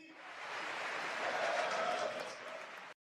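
A crowd at a Red Bull event cheering and applauding in one sustained wash of noise that swells slightly and then cuts off abruptly.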